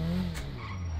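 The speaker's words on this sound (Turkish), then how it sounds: "Ve adamın olduğu yerde frene basalım." A Volkswagen Golf in GTA 5 brakes hard, and its tires skid with a sustained squeal over the engine hum. The sound is loud and close, then settles.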